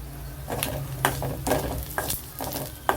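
Curry leaves crackle and sizzle in a pan of frying dried fish with garlic, a close steady hiss broken by stirring scrapes and sharp pops.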